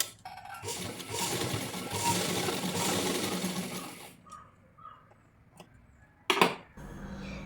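Sewing machine stitching a churidar neckline, a close, fast continuous whirring run for about four seconds, then stopping, followed by faint handling clicks and a short burst.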